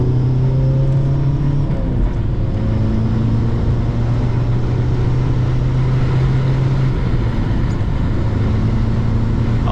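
Interior of a SEAT Ibiza Cupra TDI pulling onto the autobahn in third gear: steady, loud diesel drone under road and wind roar, with the engine note climbing as it accelerates, and no voice.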